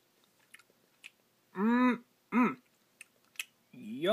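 Crunchy chewing of a Dairy Queen Butterfinger Blizzard with candy bits, a few soft close bites alongside short voiced murmurs and sounds of enjoyment.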